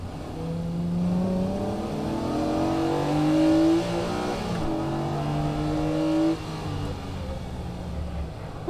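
A tuned Honda Type R accelerating hard out of a corner on a race circuit, its engine climbing in pitch through the revs with a gear change, loud and close, no talk.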